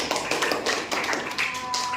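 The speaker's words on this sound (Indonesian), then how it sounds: "Beri tepuk tangan." Students in a classroom clap together after group presentations, a dense, even patter of many hands close by that carries on for the whole moment.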